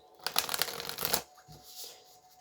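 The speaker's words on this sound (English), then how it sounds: "let's get a couple tarot cards here" A deck of tarot cards is riffled and shuffled up close, a dense burst of papery flutters and snaps that fades into softer card handling and brief rustles.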